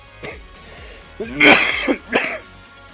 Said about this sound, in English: loud coughing.